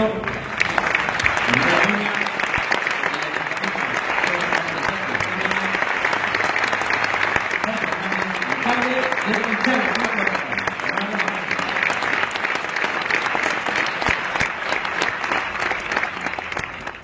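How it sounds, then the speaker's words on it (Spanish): An audience at the 2017 Aragonese sports awards gala breaks into a long, sustained round of applause, thick and even clapping running for over fifteen seconds with a few voices calling out near the start. "Un aplauso."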